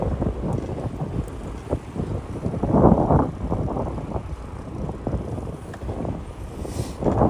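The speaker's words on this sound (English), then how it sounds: "Here we go with this fakakta wind again" Strong wind roars and buffets the microphone while cycling the Jamaica Bay loop in New York City: a continuous, dense low rumble that swells and ebbs, with no voices.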